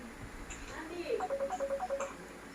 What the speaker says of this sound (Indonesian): handphone bunyi dong